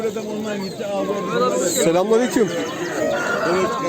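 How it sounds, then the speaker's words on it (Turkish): A Denizli rooster crows loudly nearby amid clucking fowl at a poultry and songbird market, with people talking over the noise. "Evet arkadaşlar denizli tavuğu"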